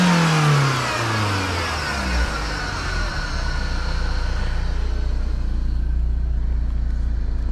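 A BMW E36 318i four-cylinder fitted with a cold air intake revs up close by, and the engine note falls smoothly back to a steady low idle that drones for the remaining seconds.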